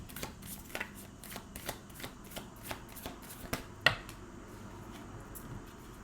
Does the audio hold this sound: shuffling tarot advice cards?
yes